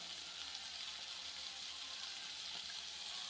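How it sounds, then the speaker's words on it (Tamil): Steady splashing flow of water poured into a pot for cooking millet flour, close and continuous, with no talking. "அந்த கப்பால் ஒன்றே கால் கப்பு ஊற்றுவோங்க தண்ணி"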